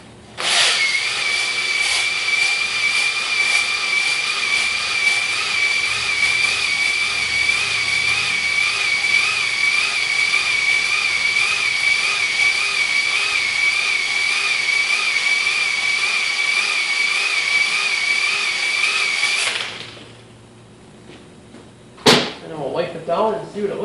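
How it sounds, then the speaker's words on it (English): A ball hone spins inside an oiled cylinder of a 350 Chevy engine block, a loud steady high-pitched drill whine holding for about twenty seconds before cutting off, followed by a short rattle and clank. "So we're gonna show a little ball honing in action here."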